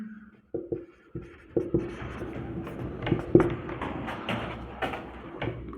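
Marker or chalk strokes on a classroom board as the printf function is written out, a series of short scratchy taps and strokes at close range with no talk.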